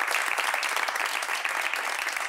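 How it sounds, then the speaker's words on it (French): A short, steady burst of audience applause from a seated group at a talk on children and mother-tongue languages, dense clapping throughout with no voices on top. "On l'applaudit."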